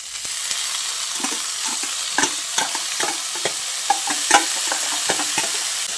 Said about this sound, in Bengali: মোচা সেদ্ধটা দিয়ে আবারও সব কিছুকে একসঙ্গে ভালো করে মিশিয়ে নিচ্ছি।